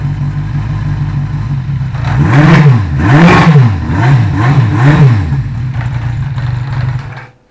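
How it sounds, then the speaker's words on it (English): A 1975 Honda CB550F motorcycle engine idling steadily up close, then blipped through several quick rev swells in the middle before settling back and cutting off at the end. "once she warms up and is off the choke, she idles great"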